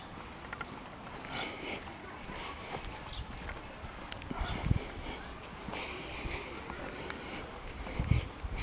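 Horse hooves clop on the ground at a stud farm, steady and fairly close, amid outdoor background noise and occasional snorts.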